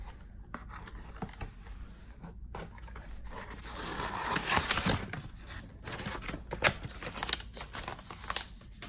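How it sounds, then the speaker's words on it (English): Brown packing paper from a shipped box crumpled and rustled by hand during an unboxing, a close, steady stream of crackling and crinkling with louder bursts in the middle, no talking. "look at all this nice brown paper I got from Belgium."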